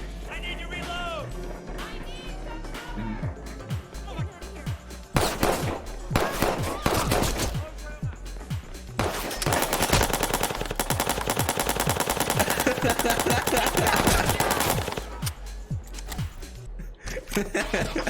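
Rapid automatic gunfire in the video game Watch Dogs 2, loud bursts of machine-gun fire and sharp shots dominating throughout, with dense sustained volleys in the middle and later stretches.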